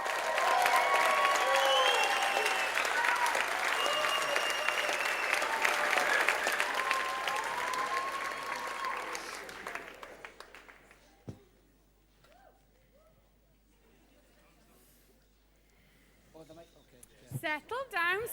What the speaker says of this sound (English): give a standing ovation as they present